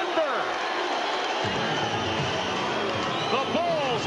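Arena crowd roaring and cheering during an NBA basketball game between the Chicago Bulls and the Denver Nuggets. A loud, sustained wash of crowd noise runs throughout under excited commentary.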